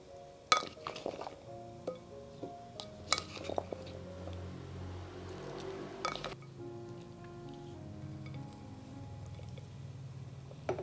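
Pumpkin pieces clink and knock into a pot of boiling water, several sharp taps of metal and hard chunks against the pot followed by a low bubbling simmer, close and fairly faint, no voices.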